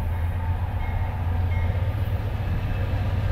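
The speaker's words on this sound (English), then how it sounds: "Alright, we have another late train. This is an 18-hour late 228." Norfolk Southern freight train 228 passing in Charlottesville, Virginia, a steady loud low rumble of rolling wagons close by, continuous throughout with no voices.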